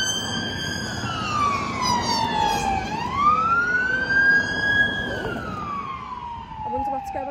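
A police car siren passes with loud wailing sweeps rising and falling in pitch, the tone shifting as it goes by, over steady traffic rumble.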